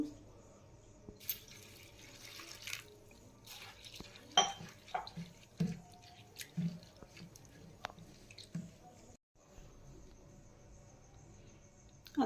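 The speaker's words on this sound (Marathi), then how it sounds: "आपण हे छोटी वाटी पोहे घेतलेले आहे हे छान धुवून घेऊ" A small bowl of flattened rice (poha) being washed in water, heard as intermittent wet squishes, splashes and light clinks of the bowl, close and quiet over a faint background.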